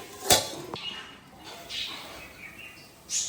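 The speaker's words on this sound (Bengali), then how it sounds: "এবার গ্যাসের ফ্লেমটা কমিয়ে আমি ঢাকা দিয়ে দেবো মাংসটা একটু সেদ্ধ হওয়ার জন্য" A lid clanks onto a pan of chicken simmering over a lowered gas flame: one sharp metallic clink near the start, then a few soft clatters and faint kitchen sounds.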